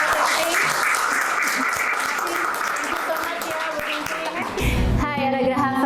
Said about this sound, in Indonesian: Tepuk tangan lagi buat Kak Ting.